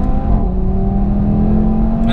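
A turbocharged five-cylinder Audi TT RS engine revs steadily, its pitch climbing slowly, close and loud, with no voices.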